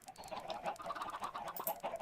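Chickens on a chicken farm in a video game cluck in a busy, overlapping chorus of soft, moderately close clucks with no talking.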